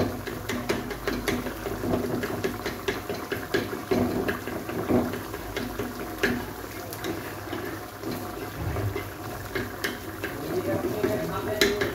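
Eggs stirred and broken up in a frying pan next to a drying okra curry, with continuous scraping and sizzling close by, steady throughout with scattered clatter.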